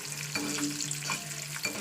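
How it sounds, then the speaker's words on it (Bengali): An egg frying in a pan in a home kitchen gives off a steady, close sizzle with faint crackles throughout, a low hum running underneath, and no voices. "একটা ডিম ভাজা করছি, ছোটো ছেলেকে খাওয়াবো সেই কারণে"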